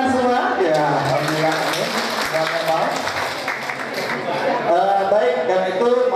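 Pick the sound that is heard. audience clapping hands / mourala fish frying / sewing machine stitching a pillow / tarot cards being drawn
audience clapping hands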